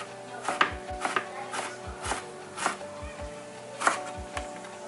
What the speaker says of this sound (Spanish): enseguida vamos a picar la cebolla en cuadritos muy chiquitos